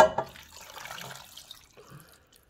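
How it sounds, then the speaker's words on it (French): Water is poured into a pot of eggplant sauce with smoked oxtail and beef rib, a short splashing pour that fades quickly, near and moderately quiet, with no talking. "Et je vais rajouter aussi là 300 ml d'eau."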